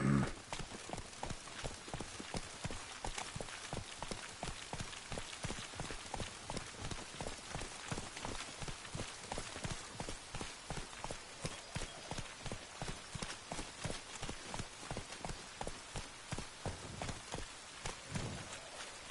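Horse hooves clop in a steady, even rhythm through falling rain in The Witcher 3: Wild Hunt, with a constant hiss of rain beneath the evenly spaced hoofbeats.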